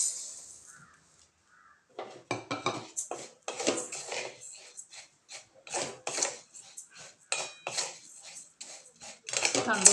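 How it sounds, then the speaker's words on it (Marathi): Rice grains dry-roast in a hot kadhai for bhajani chakli flour, giving a run of irregular, crisp rattling and scraping bursts as they are stirred, with a voice speaking intermittently. "कढई आपली गरम झालेली आहे, तर आपण तांदूळ भाजून घेऊया."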